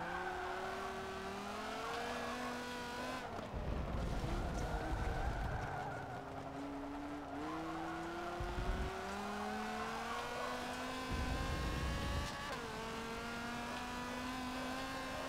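Race car engine in Forza 7 holding steady revs down a straight, dropping sharply under late braking into corners and climbing again, with brief tire squeal, loud and continuous throughout.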